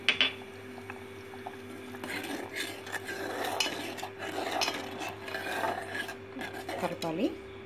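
A spoon stirs sago pudding with added sugar in a pot, giving a steady close-up scraping and swishing under a faint background hum.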